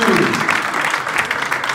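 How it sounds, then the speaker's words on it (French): Applause from the congregation at a Eucharistic celebration marking a 50th anniversary, a steady dense clapping that stays loud throughout the short burst, with voices mixed in beneath it. "Un applaudissement, s'il vous plaît."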